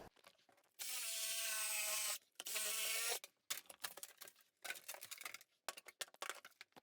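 A power tool cuts through a plaster ceiling backed with metal mesh during a bathroom remodel, two loud sustained whining bursts followed by scattered scraping and crumbling as debris shifts.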